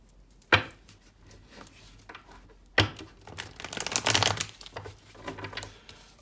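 A Rider-Waite tarot deck is handled up close, with sharp slaps of cards being set down, followed by a cluster of rustling, riffling and crinkling card sounds.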